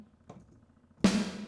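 A soft tap, then a louder drum hit whose reverb effect, set to a larger room size, rings out broader and longer, like a hit in a bigger room.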